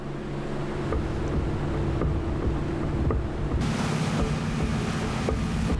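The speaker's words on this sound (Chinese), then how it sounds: "前面有不明快艇朝我们的方向冲来" A speedboat on the open sea drones with a steady, continuous engine note, blended with wind buffeting and rushing water, and no voices.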